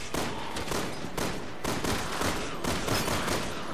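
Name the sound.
gunfire in Resident Evil 6 video game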